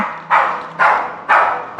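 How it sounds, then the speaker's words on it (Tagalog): A dog barks three times in a steady rhythm, each bark sharp and close, with short gaps between them. "Sumabay naman agad yung aso eh"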